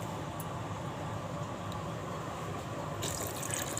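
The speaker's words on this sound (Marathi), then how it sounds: "यामध्ये पाणी घालून कुकरमध्ये उकडून घेते" Water poured onto soaked black chickpeas in a pressure cooker, a steady close gushing fill running continuously, brightening toward the end.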